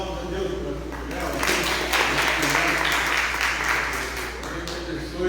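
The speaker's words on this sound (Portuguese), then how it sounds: "Dá uma salva de palmas a Deus para o Léo" A church congregation breaks into applause, a moderate wash of clapping that swells after the first second and holds steady over a low background hum, fairly distant and soft.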